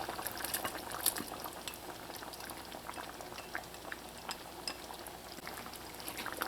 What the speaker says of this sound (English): now I'm going to return the lobster and the shrimp to the pot